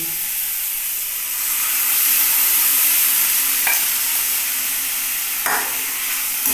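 Masoor dal frying in a spice masala with curry leaves, a steady broad sizzle running throughout with two brief sharp scrapes of stirring, close and fairly loud, no voices.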